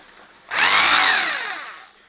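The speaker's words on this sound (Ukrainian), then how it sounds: "Можна включити, послухати, як він працює така старовина." An old 1981 Bosch straight rotary hammer starts up with a sudden loud, bright motor whine that holds steady for about a second and a half, then slowly winds down, heard alone and close.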